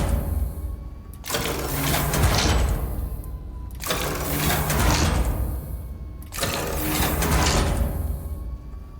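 Lever being pulled to load HE shells into a gun magazine in the Iron Nest video game, three long mechanical ratcheting slides, each starting with a sharp clack and spaced a few seconds apart.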